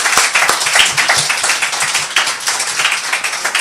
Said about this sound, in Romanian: I'd like to give applause to Emmy for the work that he has done